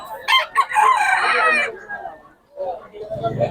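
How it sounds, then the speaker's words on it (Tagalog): A rooster crows loudly and close by, one long harsh call, among many chickens in Bocaue, then people begin talking over low background noise. "Maraming manok to si Tatay Tony."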